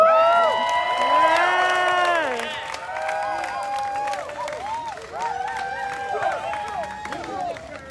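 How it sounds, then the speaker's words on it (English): A crowd at a street rally in New York cheers and claps, with loud, rising whoops and shouting voices over a constant patter of hands, the shouts fading a little after the first couple of seconds. "Clap it up for Victoria."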